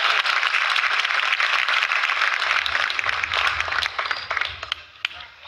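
Sustained applause from a crowd at a Jain religious discourse by Acharya Vidyasagar at Siddhodaya Siddh Kshetra, dense and steady, thinning slightly toward the end.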